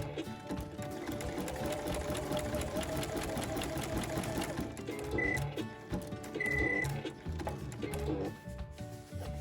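A sewing machine stitching an appliqué runs in a steady fast mechanical patter, close and continuous, briefly pausing and restarting as the needle lifts and drops back down.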